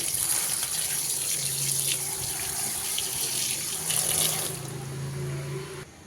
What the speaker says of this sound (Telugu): ఇంకా శుభ్రం కడుక్కోవాలి ఆకుని